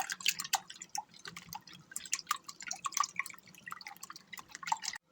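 A whisk clicks and taps rapidly and irregularly against a bowl while eggs are beaten with canned mushrooms, close and crisp with a faint low hum underneath.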